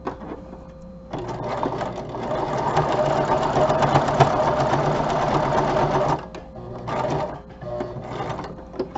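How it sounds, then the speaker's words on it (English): A sewing machine stitches down a fabric doily in a steady, fast mechanical whir, running loud for about five seconds, pausing, then resuming in shorter bursts. "So I'm going to sew it down."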